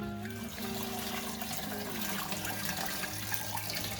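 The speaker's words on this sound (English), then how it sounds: "let most of that water run out" Water runs and trickles steadily from a squeezed homebrew grain bag set on a rack over a pan, a continuous close splashing drain with no talk.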